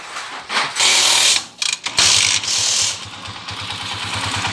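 A 175cc motorcycle engine runs up close, with a loud, raspy exhaust and a ratcheting mechanical clatter, revving in bursts before settling into a rough, uneven idle.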